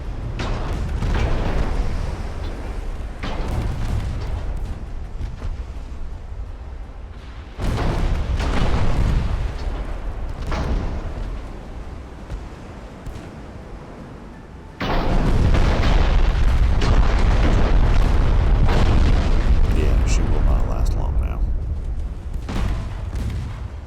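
Torpedo detonations in the naval battle game Ultimate Admiral: Dreadnoughts, deep booming explosions in several heavy waves with rumbling tails. The last blast, near the middle, is the loudest and stays powerful to the end.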